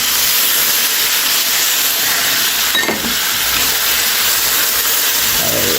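Soy sauce and corn flour hit a hot pan of meat stir fry, giving a loud, steady steamy hiss that runs throughout, with a faint clatter partway through.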